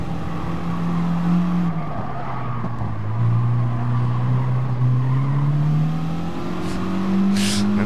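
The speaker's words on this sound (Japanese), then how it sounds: "1台だけすごいキーキーキーキータイヤの音鳴らして走ってる。" Several cars cornering in a motorsport event, with one car's tires squealing loudly and continuously in a wavering, rising and falling screech over steady engine noise, with no talk.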